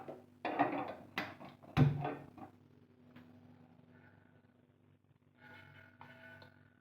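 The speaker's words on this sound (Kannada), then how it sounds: "ಈಗ ಕುಕ್ಕರನ್ನು ಸ್ಟವ್ ಮೇಲೆ ಇಟ್ಕೊಂಡಿದ್ದೀನಿ." A pressure cooker set down on a kitchen stove, a few hard metallic clanks and knocks in the first two seconds, then quiet with faint kitchen noise.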